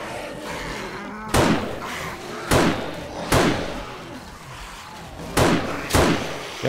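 A zombie in the survival game 7 Days to Die repeatedly bashing its head against something, five loud heavy thuds at uneven intervals over a constant background roar.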